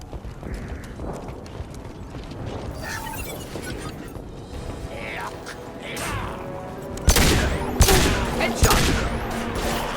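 Gunfire scoring a headshot in Mass Effect 2, with scattered game combat noises building to a sharp loud burst of shots near the end, and voices talking in places.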